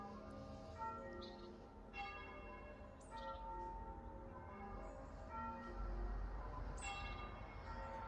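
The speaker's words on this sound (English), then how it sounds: "we're ringing the bells muffled before the Queen's funeral" Muffled church bells rung before Queen Elizabeth II's funeral, a slow sequence of dull, damped strikes at a distance with the tones overlapping and lingering.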